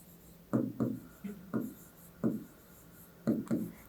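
Chalk or marker strokes on a board during a Class 8 maths mensuration lesson come as about six short, crisp scratches, some in quick pairs, heard close against a quiet room with no one speaking.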